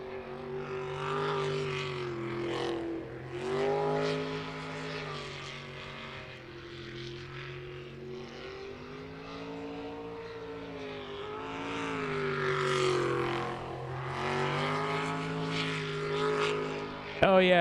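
A sprint boat's engine revving hard on a race run, a loud, sustained harmonic roar that rises and falls with throttle, swelling again near the end.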